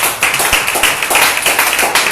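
A church congregation claps during a Spanish-language sermon at a fasting service, a brief dense burst of hand claps filling the space, steady and fairly loud throughout.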